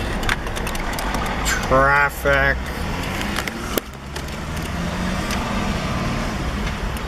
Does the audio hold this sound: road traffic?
yes